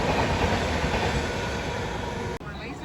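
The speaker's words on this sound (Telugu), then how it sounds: "ఇప్పుడు వెళ్ళింది కదా తిరుచినాపల్లి జోధ్పూర్ హంసఫర్ ఎక్స్ప్రెస్" The Tiruchirappalli–Jodhpur Humsafar Express rushes past close by, a loud, steady roar of wheels and coaches that cuts off abruptly near the end.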